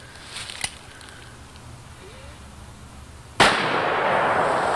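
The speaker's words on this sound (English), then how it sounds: "We're going to shoot it one-handed." A handgun fired one-handed with a high-powered Garrett load lets off a single sharp, loud report near the end, followed by a sustained ringing wash, with quiet handling sounds before it.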